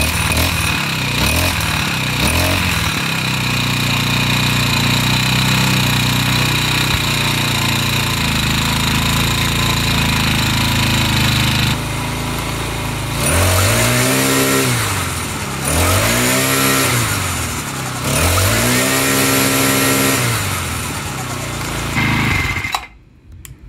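A warmed-up Craftsman 34cc 4-stroke string trimmer engine runs loud and close, holding a steady high idle before revving up and down in three repeated throttle bursts, then cutting off abruptly.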